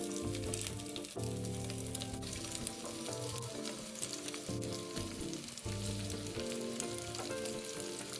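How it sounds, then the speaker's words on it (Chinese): Stuffed bitter melon sizzles steadily as it pan-fries in cooking oil over medium heat, a close, continuous crackle and hiss with brief dips, and no voices. "将酿好的苦瓜放入锅中"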